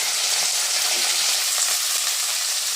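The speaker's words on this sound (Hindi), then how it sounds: "थोड़ा आलू भून जाता है" Potatoes fry in a pan with a steady, close, bright sizzle and hiss that holds evenly from start to finish.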